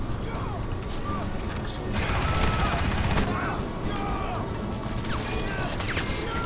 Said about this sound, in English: This minigun is the most terrible thing I've ever used.